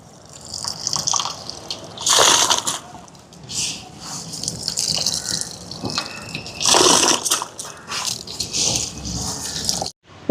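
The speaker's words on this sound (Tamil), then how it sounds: "அரிசியை போடுவோம். நல்லா கொதிச்சுட்டு தணிச்சு விட்டுட்டேன்." Rice poured into a pot of water that has been boiled and turned down, giving close, uneven watery splashes and pattering bursts, loudest around two and seven seconds, with faint rattling between.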